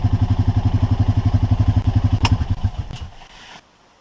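A Honda Pioneer 500 utility vehicle's engine runs close by with a steady, chugging low pulse, then revs unevenly, sputters and cuts off, leaving near silence.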